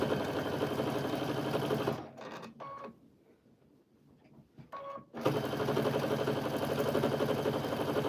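A home sewing machine running slowly while stitching batting scraps, a steady mechanical whir that fills the start and end with a quiet pause in the middle.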